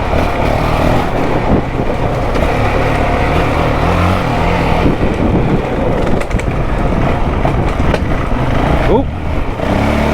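A 2023 Honda CRF450X dirt bike engine roars steadily through a test ride, loud and continuous with wind buffeting, rising and falling with throttle for about ten seconds.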